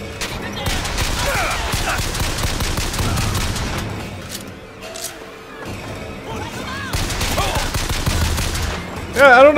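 Gunfire in Bioshock Infinite, with bursts of shots, crashes and thuds running through most of the stretch, easing briefly in the middle before picking up again, then a loud hit at the end; a voice speaks faintly in places.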